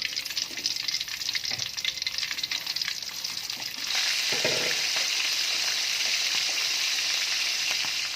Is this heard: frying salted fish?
yes